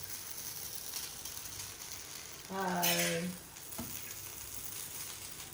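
Burnt chicken fried rice stirred and frying in a pan: a soft steady sizzle with one brief louder scraping stir partway through, quiet and close.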